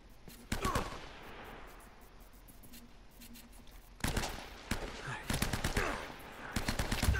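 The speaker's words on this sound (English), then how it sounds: "Who the hell's shooting at me?" Bursts of gunfire in Uncharted: Drake's Fortune, a quick volley early on, then a long stretch of dense, sharp shots crackling close and loud over a low ambient bed, with a few brief voice sounds mixed in.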